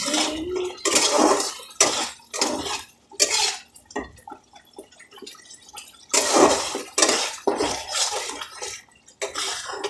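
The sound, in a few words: spice paste (masala) frying and splattering in a pan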